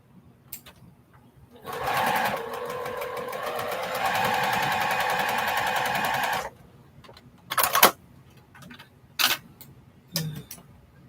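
A sewing machine stitches quilt block seams with a quarter-inch allowance, whirring in one steady run of about five seconds, followed by a few short clicks and bursts of fabric handling.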